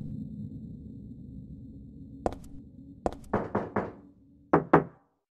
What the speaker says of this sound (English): When approaching and knocking on this particular stall, you'll hear a couple of knocks back coming from the inside.